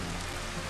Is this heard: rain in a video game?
yes